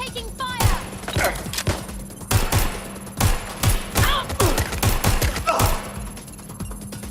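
Rapid bursts of gunfire in the PC video game Watch Dogs Legion, many loud overlapping shots and thuds in quick succession, with voices calling out between them.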